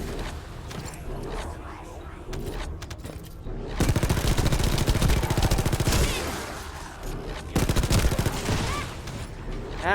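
Heavy gunfire in The First Descendant, loud sustained automatic bursts in two main stretches, mixed with game effects and occasional talk.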